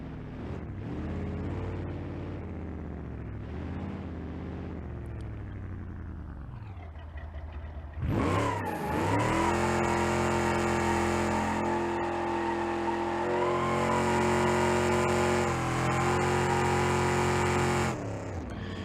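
A station wagon engine running in BeamNG.drive, idling and revving with rising and falling pitch, then a sharp jump to a louder, higher sustained drone, close and steady throughout.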